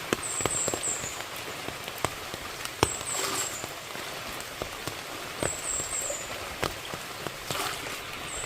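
Steady rain patters on surfaces outdoors in a mountain setting, with scattered louder drops landing close by and faint high bird chirps in the background.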